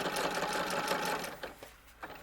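Sewing machine stitching a small doll's shirt dress, a close, fast steady whir of needle strokes that slows and stops after a couple of seconds.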